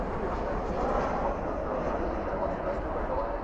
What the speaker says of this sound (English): Spoilers up, reversers out here at DFW right now.